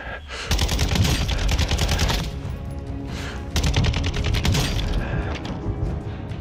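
Rapid bursts of automatic gunfire in Call of Duty DMZ, loud and sustained in two dense volleys with only a brief dip between them, crackling up into the highs.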